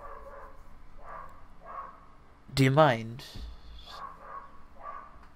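A dog gives one loud, close bark with a short yelping rise, breaking through quiet ongoing talk.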